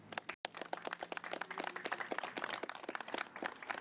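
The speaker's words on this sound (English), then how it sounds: "Let's give him a round of applause there." A round of applause from a small audience at a public event honoring military servicemembers, distinct individual claps rattling fairly close and steady for a few seconds.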